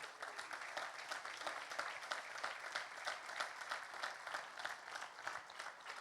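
Applause rolls through the hall at a pastors' and leaders' convention, a continuous, fairly distant wall of clapping with slight rhythmic surges and no clear talk.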